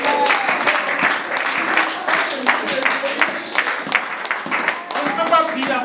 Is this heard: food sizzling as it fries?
no